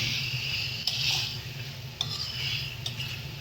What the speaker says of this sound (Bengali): এটাকে ভালো করে আমরা মশলার সঙ্গে টমেটোর সঙ্গে পেঁয়াজ পেঁয়াজ যা যা আছে সমস্ত মশলার সঙ্গে এটাকে কষিয়ে দেবো ভালো করে